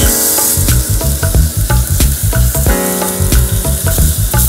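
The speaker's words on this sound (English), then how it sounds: "So therefore now we're ready to start grilling our avocados." Avocados sizzle steadily on a hot grill pan, a loud, continuous frying crackle with repeated knocks and clatter as pieces are set down and moved, no voices.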